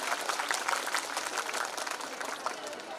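A school parents' day audience gives steady applause to the students, a continuous patter of many hands clapping at moderate distance, fairly even throughout with no voices standing out.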